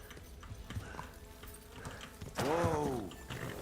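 Horse hooves clop faintly in the medieval game Kingdom Come Deliverance 2, soft irregular thuds under ambient noise, followed by a loud whinnying horse cry near the end.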